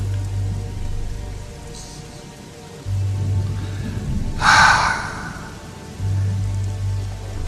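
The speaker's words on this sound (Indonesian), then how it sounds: "Hujan yang kayak gini sih bakal lama nih." Heavy rain pours onto a closed roadside stall at a tea plantation, a steady broadband hiss over a low hum that swells briefly into a louder burst midway before settling back.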